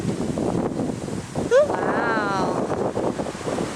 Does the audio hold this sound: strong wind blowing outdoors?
yes